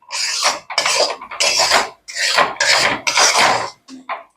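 Powdered sugar being mixed into biscuit dough in a metal bowl, repeated scraping and rubbing strokes in a steady rhythm with brief pauses between them, close and clear.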